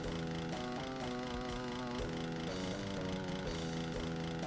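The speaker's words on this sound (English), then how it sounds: "This is why you can see me using the chainsaw here, because I really want to conserve my ammo." Chainsaw in the video game Doom, a harsh buzzing motor sound that revs in repeated pulses about every half second, loud and continuous with no talking.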